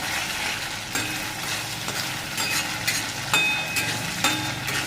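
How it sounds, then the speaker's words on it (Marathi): Shev bhaji masala mixture stirred and frying in a pan, a steady close sizzle broken by periodic scraping strokes of the spoon against the metal, with no voices. "याला मस्त असं हलवायचं थोडंसं फ्राय करून घ्यायचं"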